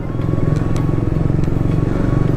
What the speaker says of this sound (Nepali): एक हप्ता पछि बाइक चलाउँदै त कस्तो पावरफुल लाग्यो क्या मेरो बाइक आफ्नै